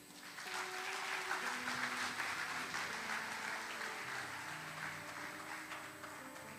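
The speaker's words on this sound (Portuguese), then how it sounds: "Vamos aplaudir a Jesus" Congregation applauding during a church service, a steady wash of clapping that builds quickly and holds, with sustained organ or keyboard tones ringing underneath and a faint hum across the whole stretch.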